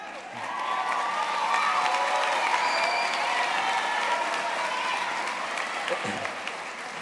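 Sustained applause mixed with cheering and whoops from a large audience at a school commencement ceremony, steady and loud for the whole stretch with some voices rising above the crowd.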